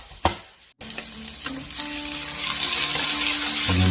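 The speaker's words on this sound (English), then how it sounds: "And then a good stir." Vegetables sizzle and fry in a hot pan for a turkey pot pie while a utensil stirs them, a steady close crackle that builds in intensity, with a few clacks of the spoon and no talking.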